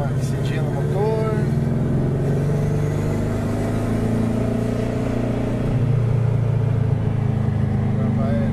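A turbocharged Volkswagen Beetle engine idles with a low, steady rumble, its pitch rising slightly as it revs; a voice speaks briefly at the start.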